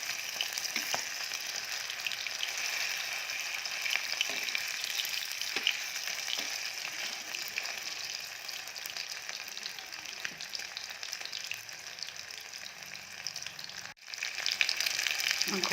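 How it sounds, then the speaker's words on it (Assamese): Chicken pieces for chicken Manchurian frying in oil until reddish, a steady close crackling sizzle with occasional soft knocks of a utensil and a brief dip near the end before the sizzle resumes. "মাংসখিনি ৰঙচুৱাকৈ ভাজি ল'লোঁ।"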